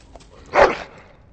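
A dog in the Dragon Age: Origins video game gives a single short bark or yip, brief and fairly close, standing alone against a quiet background.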